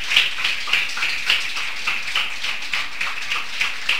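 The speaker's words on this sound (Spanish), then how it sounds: "Denle una ofrenda de aplauso al Señor." Church congregation clapping in steady, repeated rhythm throughout, a fairly loud ongoing applause from a worship service crowd.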